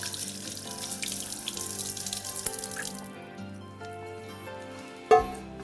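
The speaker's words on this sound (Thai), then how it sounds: "ขัดก๊อกน้ำแล้วก็ล้างทิ้งล้างฝุ่นทิ้งไปได้เลย" Water runs from a tap to rinse dust off a faucet after scrubbing, a steady hiss of flow that softens partway through, then a brief splash near the end. No voices.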